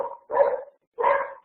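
Two loud, close dog barks in quick succession, each short and sharp with a brief pause between, no other sounds around them.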